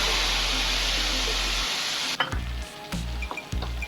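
Spice paste for a Bengali pabda fish curry hits hot oil with cumin and a dried chilli, giving a loud steady hiss that cuts off abruptly, followed by a few short sizzling bursts and clinks.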